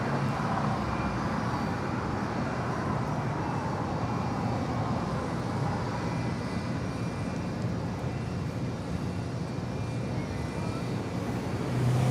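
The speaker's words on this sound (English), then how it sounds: "Delta Airlines flight 756 and the 737-900ER" A Delta Airlines Boeing 737-900ER arriving at Los Angeles International Airport produces a steady, broad jet roar that holds evenly for twelve seconds, with no talk over it.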